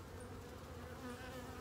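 Honey bees buzz steadily around a frame holding a home-raised queen in a hive, a close, continuous droning hum with no talk over it.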